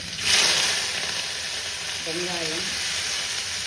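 Mustard seeds, fennel, garlic and curry leaves hit hot oil for a black-eyed pea coconut-milk kurma, bursting into a loud crackling sizzle that settles into a steady close hiss, with a faint murmur of voice partway through.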